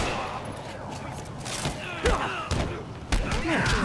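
Gunshots in Marvel's Spider-Man Remastered: several sharp, punchy shots at irregular intervals crack over a busy background of combat noise and voices talking.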